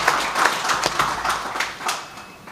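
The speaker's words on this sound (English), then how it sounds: "Clap for her again." Audience applause at a Women's Day celebration on a campus, a short stretch of scattered moderate hand clapping from a room of people, fairly soft and brief.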